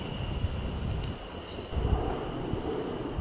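A London Overground Class 378 train from the East London line rolls into Clapham Junction, a steady low rumble and hiss of wheels with wind buffeting the microphone.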